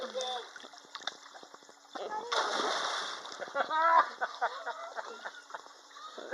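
Water splashing in a pool water fight: choppy splashes and sloshing, loudest in a burst midway, with excited voices talking and shouting throughout.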